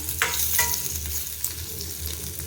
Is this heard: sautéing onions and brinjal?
yes